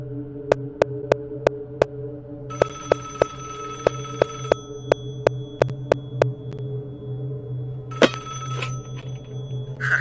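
A telephone rings inside the horror video game Five Nights at Wario's, heard as evenly spaced electronic ticks over a low, steady hum, with bright tonal layers that come and go.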